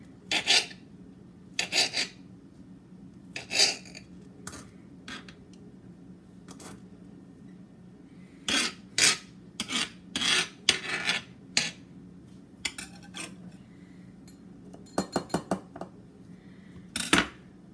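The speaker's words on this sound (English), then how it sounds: "So I'm just chopping these up" A knife cuts bell peppers on a cutting board in scattered bursts of crisp, scraping chops, some in quick runs of several strokes, with quiet pauses between and no talking.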